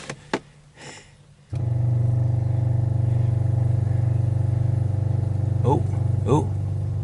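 A 1956 Buick 322 Nailhead V8 catches after a few faint clicks and settles into a loud, steady idle with a fresh fuel pump fitted, running close by; a couple of brief voices cut in near the end.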